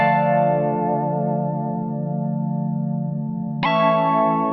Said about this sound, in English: let's just listen to what this pad would sound like